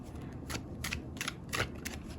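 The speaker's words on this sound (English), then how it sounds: "So this is a very casual shuffling." Tarot cards are shuffled close up in soft, quick bursts, about five brief riffles separated by short pauses.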